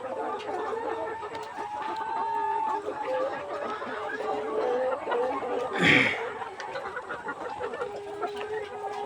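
Layer hens on a poultry farm cluck and murmur continuously, a dense, steady flock chorus at moderate volume with one brief louder squawk near the middle.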